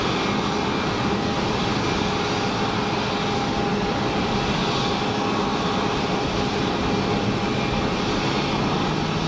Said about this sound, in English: very shortly we're going to have that Challenger 350 appear from the side of the tower